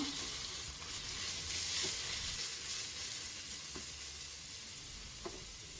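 One large, thinly sliced onion fries in a pressure cooker for Ambur mutton biryani, making a steady close sizzle with faint scraping strokes from stirring throughout, and no one talks.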